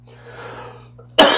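A single sharp cough bursts out near the end after a quiet, faintly humming stretch.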